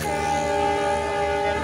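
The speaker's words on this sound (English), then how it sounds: "There's a train." A passing train sounds a sustained tonal horn over steady rumbling rail noise, close and fairly loud for under two seconds.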